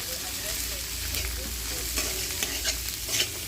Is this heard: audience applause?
no